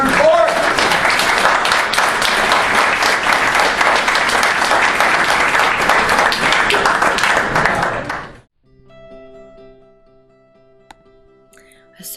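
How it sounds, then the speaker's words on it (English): A neighborhood crowd on a residential court breaks into loud, sustained applause with dense clapping for about eight seconds, then it stops abruptly and leaves near silence with faint background sounds. "How about a round of applause for the whole darn court?"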